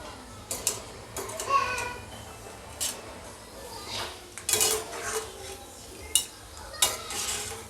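Fried peanuts scooped out of a hot oil pan with a metal spoon for potato chivda, giving close scrapes and clinks against the pan at an uneven pace over faint background sizzle, with a brief voice in the background.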